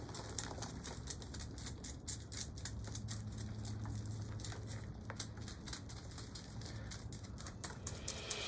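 Repeated small clicking snips as old roots of a Japanese boxwood are cut while repotting, a quiet, fairly quick rhythmic series of close crisp cuts over a faint steady hum.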